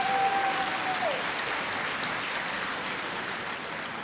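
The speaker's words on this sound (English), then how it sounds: "How about a big round of applause for Sam Primucci?" A gala crowd at a 50th anniversary celebration applauds the master of ceremonies with a full, even roar of clapping. A brief whistle cuts through near the start, and the applause tapers only slightly toward the end.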